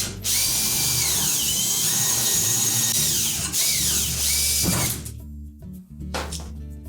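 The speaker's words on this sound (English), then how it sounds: "So using an 1/8 inch bit and a portable drill, we're just going to drill those out first." A portable drill with an 1/8 inch bit whines loudly and steadily for several seconds as it drills out a metal rivet on a Whirlpool refrigerator, then cuts off, leaving faint clinks and shuffling.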